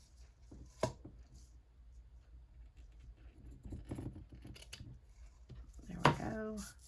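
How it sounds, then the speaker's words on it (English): Scissors snip along the edge of a paper pocket for a junk journal, producing a few soft, scattered cuts close by in a quiet room, with a brief voiced sound near the end. "I'm gonna cut the edge."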